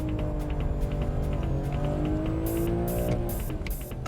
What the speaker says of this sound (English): Ah, nice power slide there.